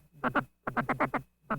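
Guttural feeding chuckle blown on a duck call, imitating a duck feeding with its bill in the water: two quick grunting notes, a pause, then a rapid run of four, and one more after a gap, close and clear.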